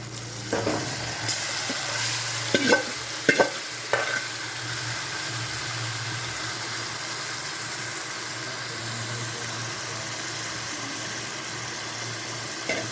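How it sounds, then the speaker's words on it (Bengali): Marinated chicken hits a hot pan and fries with a steady broadband sizzle for the whole stretch, with a few sharp stirring scrapes and clatters near the start, nobody talking. "ম্যারিনেট করা যে মাংসটা আছে মাংসটা দিয়ে দিই"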